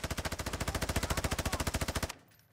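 Automatic weapon fire in the video game Call of Duty DMZ, a rapid, evenly paced burst of about thirty shots that stops abruptly near the end, close and punchy, with no talk.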